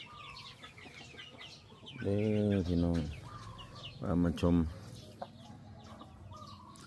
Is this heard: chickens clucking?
yes